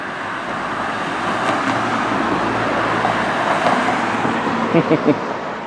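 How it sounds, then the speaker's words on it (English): Cars drive along and slow down on Westham high street, a steady close traffic rumble and tyre noise with vehicles passing, plus faint intermittent voices in the background. "Interesting how cars slow down all of a sudden when they see a camera pointed in their direction"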